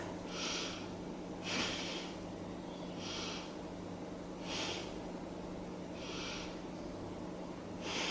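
Slow, deep breaths drawn during a beginner yoga pose, each long inhale and exhale forming a steady, even rhythm of about five or six soft, close breath sounds against a quiet room.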